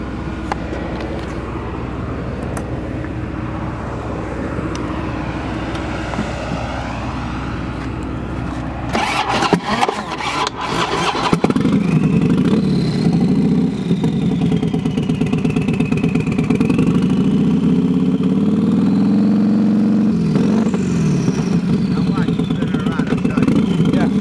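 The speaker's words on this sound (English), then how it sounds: "Really hear that turbo spooling up." A turbocharged 2007 Harley-Davidson Street Glide motorcycle engine turns over and catches, then settles into a loud, throaty idle with occasional revs, recorded up close.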